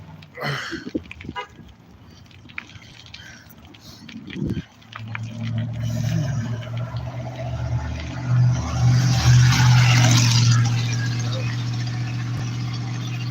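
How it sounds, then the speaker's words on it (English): A noisy truck drives along a Columbus, Ohio street, its engine roaring in a loud, sustained rumble that swells and holds for several seconds after sharp bursts of traffic noise and a horn-like toot. "It's a truck like that, noisy."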